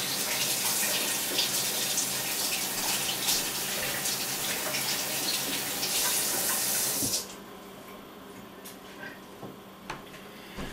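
Tap water runs steadily from a kitchen faucet while raw chicken breast is rinsed under it, a loud continuous splashing rush that drops abruptly to a much quieter trickle and faint sink noises for the last few seconds.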